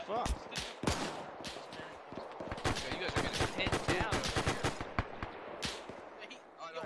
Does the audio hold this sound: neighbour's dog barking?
no